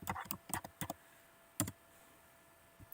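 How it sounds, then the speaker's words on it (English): Short bursts of keystrokes on a computer keyboard while typing a word into design software, close and clear, with a pause before a few final taps. "let's type in the word heart"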